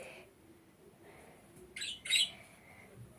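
A pet budgerigar gives a few sharp squawks, two loud close calls near the end following softer chirps, with quiet room noise and no talking.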